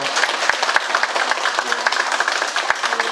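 Applause from a Buddhist temple gathering honoring newly appointed members, a dense patter of many hands with a few sharper claps standing out, steady and fairly loud throughout, with a murmur of voices beneath.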